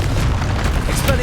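A Confringo explosive spell goes off in the video game Hogwarts Legacy, a loud, dense booming burst with a rumbling low end that fills the whole moment, with crackling debris layered on top.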